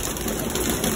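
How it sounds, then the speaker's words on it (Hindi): Freshly released pigeons coo in a brief, dense murmur, many birds together close by, loud and continuous across a single second. "तो यार कबूतर खुल गए हैं सारे"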